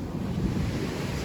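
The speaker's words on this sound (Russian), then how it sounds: "Воу, воу, друзья, вот это красивая волна была" Sea waves break near the boathouses below the Utyos palace on the Crimean coast, giving a steady, dense roar of surf mixed with gusting wind noise, loud and close.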